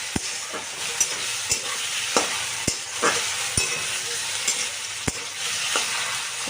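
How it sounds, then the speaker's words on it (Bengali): Potato pieces and onion stalks with turmeric frying in a pan, a continuous loud sizzle punctuated by sharp periodic taps and scrapes of a spatula as the mixture is stirred, no talking. "এই আলুটা আর একটু পেঁয়াজ কলিটা হালকা ভেজে নেবো"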